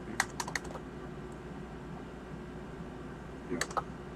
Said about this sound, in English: you guys see what I'm typing?